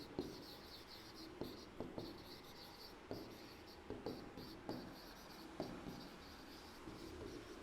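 Someone writes out the relationship between zeros and coefficients for a Class 10 maths exercise: faint, irregular taps and short scratches over a steady hiss, with no talking.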